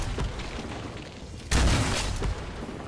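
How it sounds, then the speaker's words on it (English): A rocket launcher fires in Brutal Doom (Project Brutality 3), a sudden loud boom partway through that rolls on as a dense blast over low game rumble. "Fire, rocket launcher."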